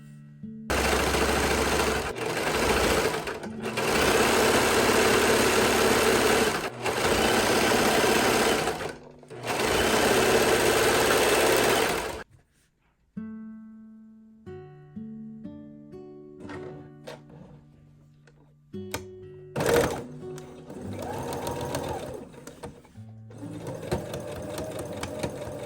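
A serger, an overlock sewing machine, stitches lace onto a nightgown sleeve in loud, close bursts of rapid rattling, stopping and starting, then falls quiet into softer handling clicks and light background music.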